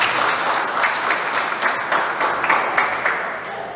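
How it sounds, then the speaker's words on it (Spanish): A church congregation applauds God, a thick, continuous burst of many hands clapping that carries on steadily and gradually tapers toward the end. "Dale un aplauso a Dios por eso"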